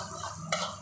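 Biryani rice being stirred in a cooking pot, with a steady low sizzling bed and one sharper scrape of the spoon about halfway through, close and moderately quiet.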